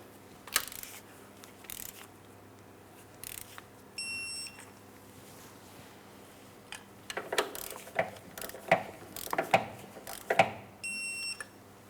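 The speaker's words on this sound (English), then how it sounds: "I got my torque wrench." A torque wrench tightening a crankshaft position sensor bolt on a 2004-2008 Pontiac Grand Prix 3.8L V6, heard as quiet ratcheting clicks and metallic taps, then a closer run of sharper clicks with a brief high beep.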